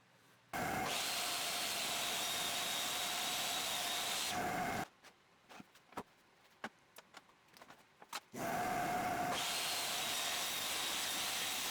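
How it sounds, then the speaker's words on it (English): A table saw jointing wood edges, with two loud, steady cutting runs separated by a pause full of scattered knocks, taps and handling noises. "I'm joining these edges using a level and my table saw"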